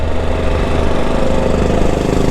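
A vehicle engine labouring in first gear up a steep hill road near Sajek Valley, a loud, steady, rough drone with constant vibration and no voices.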